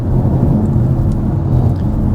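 Steady, low droning rumble of a 2026 Dodge Charger R/T's six-cylinder engine, heard from inside the cabin while driving, continuous and even with no talk.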